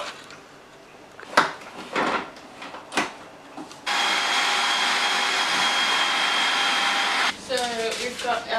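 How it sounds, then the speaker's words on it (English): A food processor blends oat-based vegan sausage roll filling with almond milk, giving a steady loud whir for a few seconds after some clattering, and a voice is heard briefly afterward. "Next we blend these together."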